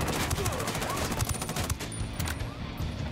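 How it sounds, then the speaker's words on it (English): Automatic gunfire in the video game Tom Clancy's Ghost Recon Wildlands, a dense rapid rattle of bursts under steady game noise, loud and continuous for a few seconds. "he's shooting at a box"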